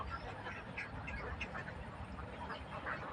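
Thousands of domestic ducks at a Jhenaidah duck farm quack continuously in a busy overlapping chorus, moderately distant and fairly faint.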